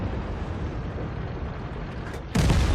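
A World of Tanks artillery shell slams in with a sudden loud blast after a low, steady rumble of engine noise, the impact hitting abruptly near the end.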